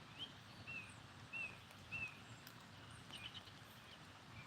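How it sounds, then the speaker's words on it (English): Faint, high bird chirps come in short separated calls a few times over a low outdoor rumble, with no one talking. "All the birds around here are really active."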